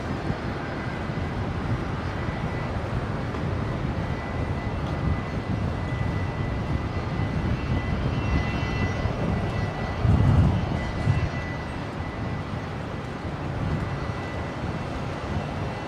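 A Singapore Airlines Airbus A350-900 taxis toward runway 01 left for departure at Brisbane International Airport. A steady, loud engine rumble and whine carry through the whole stretch, with a brief swell partway through. No voices are heard.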